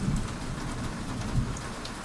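Steady rain falling at night in a city, a dense close hiss of drops on surfaces with faint low rumbles underneath, continuous and without voices.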